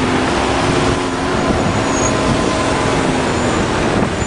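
Road traffic with stopped cars fills the scene: a loud, continuous rumble of engines and roadway noise, close by and steady throughout, with no voices.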